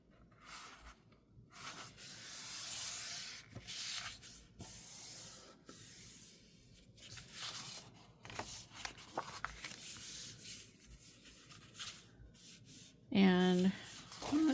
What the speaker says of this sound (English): So go ahead and fold it.